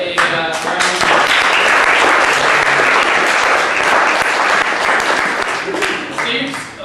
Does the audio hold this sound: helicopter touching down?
no